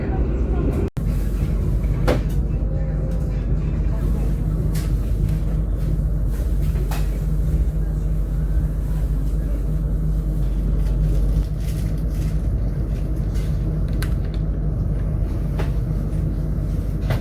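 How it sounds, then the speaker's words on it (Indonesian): The KA Pandalungan passenger train, just departed from Tanggul station, rumbles with a constant low rolling drone from inside the carriage, with faint clicks and a sharp knock early on. "baru aja kereta api Pandalungan berangkat dari stasiun Tanggul ya."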